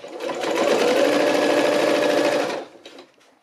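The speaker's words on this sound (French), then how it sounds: "je couds ma première patte, ma première sous-patte de braguette" A sewing machine runs steadily for about two and a half seconds, stitching the fly facing of a high-waisted pair of jeans, then stops, leaving a few faint handling clicks.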